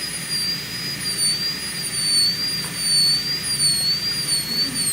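Dental handpiece cutting a shoulder into an onlay tooth preparation, a steady high-pitched whine with a drifting tone, continuous and close for the whole stretch with no talking.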